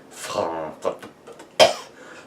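A short sharp cough follows a few seconds of a voice speaking, close and fairly loud.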